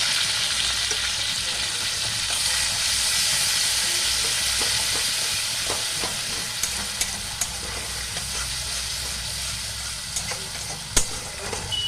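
Ginger paste and cumin powder fry in hot oil while being stirred. A continuous close sizzle and hiss runs throughout, broken by occasional light scrapes and taps of the spoon.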